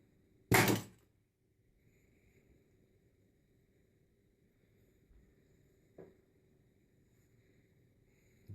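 A homemade coil gun fires a projectile once: a single sharp, loud thunk near the start, then quiet room noise with a faint knock later on.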